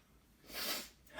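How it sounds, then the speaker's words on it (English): A single quiet sneeze bursts out in a short sharp hiss, with a faint intake of breath before it and the start of another breath at the end, close and otherwise quiet. "Gotta sneeze."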